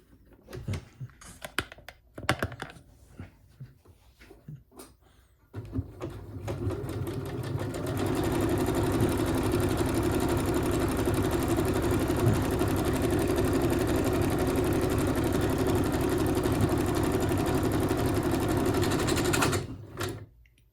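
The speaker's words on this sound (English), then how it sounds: "We're going to try this stitch and see how it comes out, because this one will tell the tale for the back stitch for sure." A Kenmore embroidery sewing machine stitches a back stitch, its fast, steady mechanical whir running loud and continuous for about twelve seconds after a few quieter clicks and handling sounds at the start.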